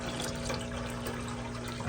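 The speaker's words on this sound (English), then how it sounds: "I'm not sure what this water is coming out for. That should not be coming out." Water unexpectedly gushes from a service hose, a steady loud rushing flow with a faint hum underneath, continuous and close with no speech.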